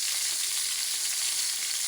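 Garlic, onion and tomato fry in a pan, giving a steady, close, bright hissing sizzle that continues without pause and with no talk.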